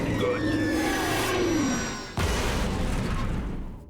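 The Krang ship in the 2012 Teenage Mutant Ninja Turtles cartoon blows up after a missile strike. A loud whooshing roar swells, then a sudden heavy boom cuts in and rumbles away, with a voice faintly underneath.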